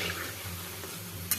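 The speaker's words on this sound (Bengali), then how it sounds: "এগুলো আমি একটু গোল্ডেন হতে হতে ভাজি ভালো করে, হালকা একটু গোল্ডেন গোল্ডেন হবে" Gaja sweets frying in hot oil until golden, a steady low sizzle with faint stirring, close and continuous, ending with a brief sharp clink near the end.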